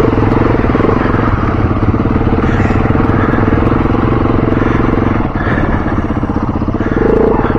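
Several trail motorcycles ride through ruts at a skills day, their engines droning loudly and continuously nearby with light clattering and small shifts in revs.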